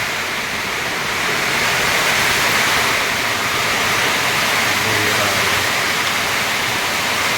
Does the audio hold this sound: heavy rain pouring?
yes